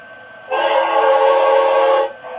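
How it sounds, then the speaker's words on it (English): A model New York Central L-3 Mohawk steam locomotive (MTH RailKing, Proto-Sound 2.0) sounds a single steady whistle for about a second and a half, clear and sustained, then cuts off cleanly, leaving a faint hum. "Let's listen to the whistle."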